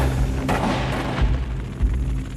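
Muffled gunfire in a dramatized castle uprising scene, a few dull booming shots over a steady low rumble, with no speech.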